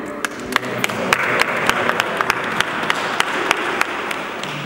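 A church congregation applauds steadily with dense, continuous clapping that fills the room, with a few sharper individual claps standing out throughout.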